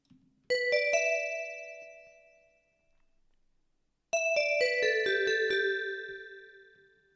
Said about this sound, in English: in the basic verses, we get this bell sound.